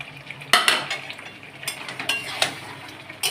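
Fried potatoes are stirred into chicken curry in a pan: a utensil scrapes and clatters against the metal in a few sharp strokes over a soft, steady sizzle, with no talking.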